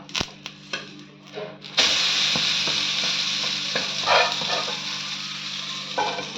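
Egg cheese paratha frying in oil on a low flame, a steady close sizzle that swells after a few light clicks of a utensil, with occasional soft scraping bursts.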